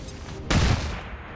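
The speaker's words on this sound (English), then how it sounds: "We can remove the overwatch with a flashbang." A flashbang grenade goes off in the video game XCOM 2, a single sudden loud blast that decays quickly into a brief rumbling tail.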